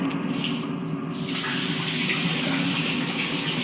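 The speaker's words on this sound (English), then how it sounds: "so I'm gonna wash my hands." Tap water runs steadily into a sink while hands are washed, a continuous close splashing gush that starts slightly softer and fills out after the first second, with no talking.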